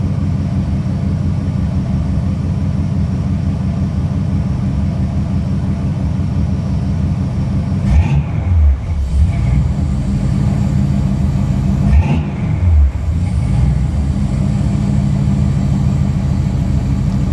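A 455 big block V8 in a G-body car idles as it warms up, a loud, close, steady rumble broken by two brief throttle blips.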